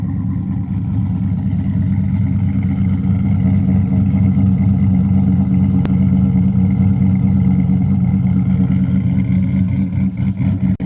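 A green 2009 Suburban truck's engine running steadily, a loud, close, deep low rumble that holds for about eleven seconds with slight swells, no one talking over it.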